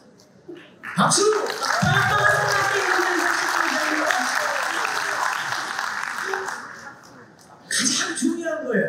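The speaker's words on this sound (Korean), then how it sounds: "박수!" A live audience at a Korean business presentation claps in a sustained burst of applause lasting several seconds, then a brief pause before clapping picks up again near the end.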